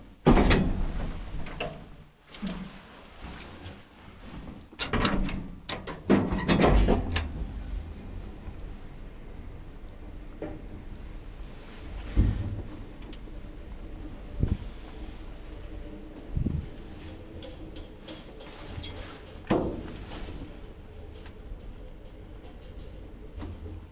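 Doors of an old Kone traction elevator in Lahti rumble and clatter as they operate, a burst of heavy knocks and sliding noise early on, then scattered thuds and bumps over a low mechanical hum.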